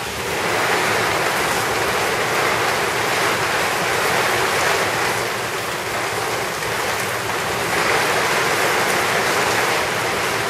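Heavy thunderstorm rain pours down steadily outdoors, a loud, dense, continuous hiss and wash of falling water with no break and no voices.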